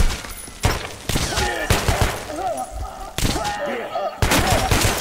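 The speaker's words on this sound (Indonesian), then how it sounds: "masih ada yang bisa nembak dong" Gunfire in the video game Metro Last Light, a dense run of shots and impacts that is loud and close throughout, mixed with other game noise and brief voices.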